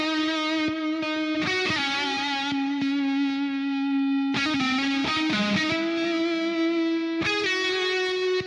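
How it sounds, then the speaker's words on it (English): An electric guitar played through the McRocklin Suite gives a thick, sustained distorted tone, with held notes and chords changing every second or two, loud and close and continuous without talk. "If you listen to the distortion."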